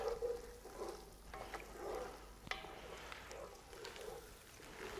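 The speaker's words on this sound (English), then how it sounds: "We'll just keep on stirring this, stirring the tomato, and make sure we get it all reduced nicely." A spoon stirs and scrapes through reducing tomatoes in a pot of smoked brisket chili, making soft, irregular stirring and bubbling sounds with a faint sizzle, fairly quiet and continuous, with no talking.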